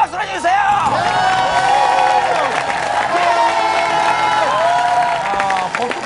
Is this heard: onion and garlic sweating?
no